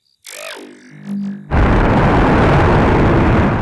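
A Soviet R-7 rocket launches from the pad. A tone sweeps downward and a low rumble builds, then a loud, sustained, close roar of rocket engines takes over.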